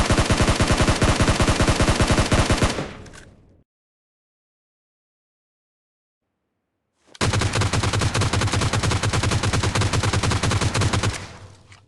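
Assault rifles firing in the BGMI mobile battle royale game during a weapon recoil comparison: two long full-auto bursts of rapid, loud, evenly spaced shots, separated by a few seconds of silence, with no talking.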